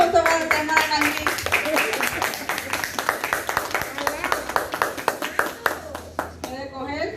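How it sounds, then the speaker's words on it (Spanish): A church congregation at a Bible study claps for a woman, brisk loud rhythmic applause from a small group close by that runs continuously and stops abruptly near the end, with a voice briefly audible at the start. "Un aplauso para nuestra hermana Carmen."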